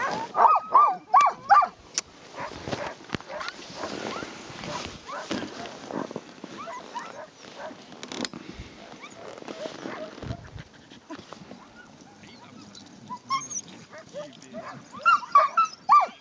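Sled dogs on a Svalbard dog-sledding trip bark and whimper in irregular bursts, louder at the start and end, with scattered yelps and whines in between.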